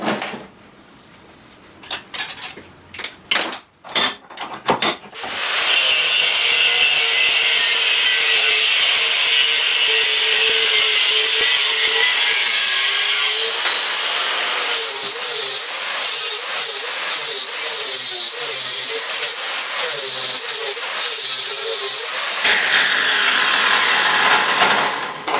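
After a few sharp knocks, a power tool cuts through scrap metal in a home garage, giving off a loud, steady high whine that runs unbroken for about twenty seconds and shifts pitch slightly as it bites.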